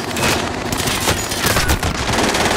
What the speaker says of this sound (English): I missed all my shots horribly bad.